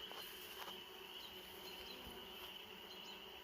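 A swarm of honeybees fanning the queen's pheromone scent into the air at their landing spot gives a steady, faint, dense buzzing hum outdoors, with occasional nearer passing bees and no voices.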